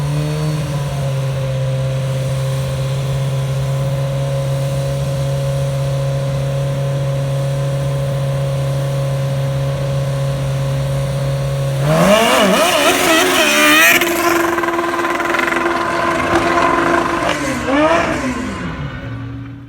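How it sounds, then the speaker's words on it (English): A Kawasaki ZRX 1100 drag motorcycle runs down an NHRA drag strip, its engine droning steadily before surging into a loud, wavering rev with rapidly shifting pitch, then dropping back as it fades. "Big panic rev there."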